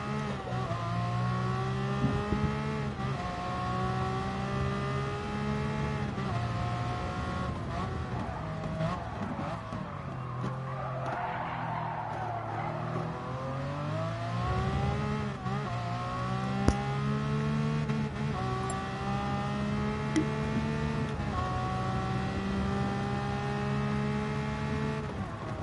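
A race car climbing the hill at Spa in a racing game, its engine droning loudly through repeated upshifts and downshifts, with a burst of tyre scrub midway as the car gets unsettled over the crest.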